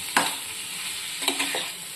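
Chicken cocktail sausages stir-fried in a pan with turmeric and cumin powder: a steady frying sizzle with a few sharp spatula scrapes, one early and two close together near the end, with no voices.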